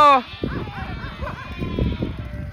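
A sheep gives one loud, close bleat at the very start, then someone talks over low farmyard rumble and faint animal sounds.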